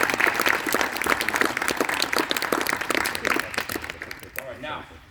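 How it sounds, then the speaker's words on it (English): Audience applause for a girls' sports team at a coaching clinic, dense steady clapping for about four seconds that thins out and fades near the end, with faint voices underneath. "Let's give them a round of applause."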